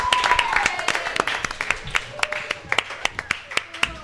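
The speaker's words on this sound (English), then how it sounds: "Round of applause for our producer, Jared Reisenshire." A small group claps for a producer, a brief burst of applause that starts dense and thins into scattered, distinct claps, with some voices mixed in near the start.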